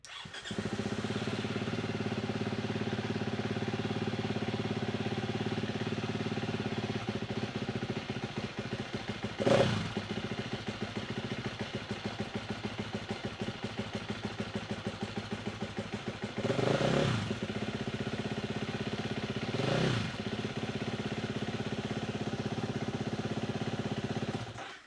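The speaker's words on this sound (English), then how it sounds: "So that little sputter that you heard, that was the issue I was having" A 2017 KTM 350 EXC-F dirt bike engine idles with a rapid, uneven mechanical patter, broken by a few brief sputters and stumbles, close and steady throughout with no talking.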